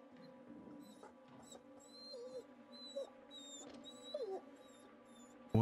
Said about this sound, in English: I hear a dog in here.